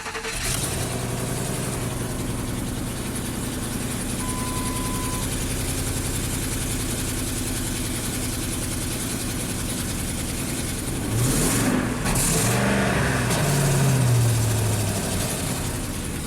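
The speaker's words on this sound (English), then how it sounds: "All right, let's fire up the truck." A Ford truck with a stall, low-power and misfire problem cranks over and catches, then settles into a steady, loud idle that swells slightly near the end, with no talking.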